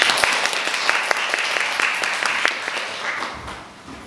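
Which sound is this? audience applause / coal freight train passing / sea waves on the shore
audience applause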